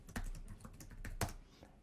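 Fingers typing a password on a computer keyboard during a Linux terminal install, a quick run of close, soft key clicks with one sharper keystroke near the end, no talking.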